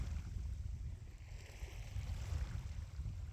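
Ocean waves washing against a rocky shore, a low, steady surging rumble with soft swells that rise and fall, heard at a distance and faint.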